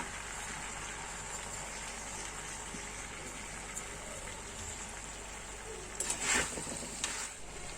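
Honey garlic chicken is stirred with roasted sesame seeds in a clay pot, giving a quiet, steady sizzle under faint scraping, with a brief louder clatter near the end.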